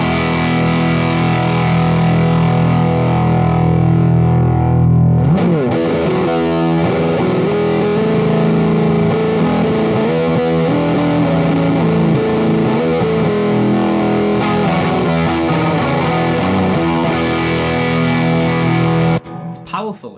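An electric guitar played through an overdrive pedal rings out with distorted, sustained chords and riffs, loud and close, a short pause near the start and a small burst at the end.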